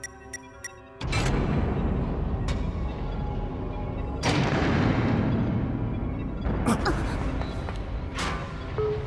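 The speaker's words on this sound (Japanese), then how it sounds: "爆発音がだんだんと近づいてくる" Deep explosions rumble in the Time Travelers video game on PS Vita, a sudden heavy blast followed by sustained booming with further loud surges, preceded by a few short electronic blips.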